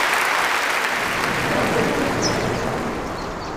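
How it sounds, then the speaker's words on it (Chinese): Tens of thousands of spectators stand in the stands at Workers' Stadium during a football match and give a warm, sustained ovation. The dense clapping slowly fades near the end, and a voice speaks over it. "数万观众撇开比赛，霎时都站立起来，向他报以热烈的掌声。"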